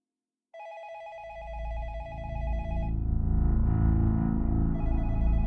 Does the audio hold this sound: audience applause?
no